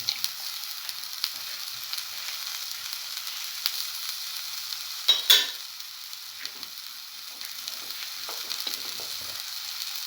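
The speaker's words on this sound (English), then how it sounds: "let it fry for 60 to 80 seconds" Red chili frying in a pan for a cinnamon scrambled egg stir fry, a steady close sizzle with a brief louder burst of crackle and stirring midway, no talking.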